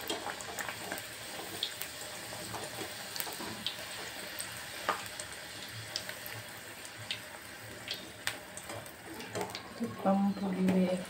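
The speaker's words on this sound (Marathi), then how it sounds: "चला तर आता आपण तळून घेऊया." Kachoris made with fresh pigeon peas and wheat or refined flour sizzle softly in hot oil, a faint, steady frying hiss with small pops and a few utensil taps, while a person talks quietly nearby.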